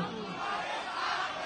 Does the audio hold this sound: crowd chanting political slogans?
yes